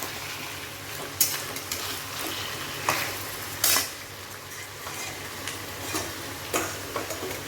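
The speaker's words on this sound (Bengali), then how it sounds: "মাংসটা সব দিয়ে দিচ্ছি, একটু ভেজে নেব" Pieces of country chicken sizzle and fry in a pan for a curry, a steady crackling hiss broken by scattered clicks and scrapes as they are stirred, with no talking.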